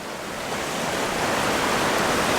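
Ocean waves break on a rocky shore in a steady, dense wash of surf that grows slightly louder, with no voices.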